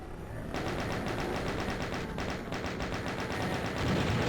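Rapid automatic gunfire from a first-person shooter, Doom Eviternity II, aimed at a fleshy pod; a dense, continuous volley of shots with steady loudness across the whole stretch and no talking.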